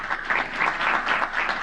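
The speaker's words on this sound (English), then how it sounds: "a big round of applause" Brief burst of audience applause at a printing-industry workflow summit, a dense crowd clapping close and steady, with no voices.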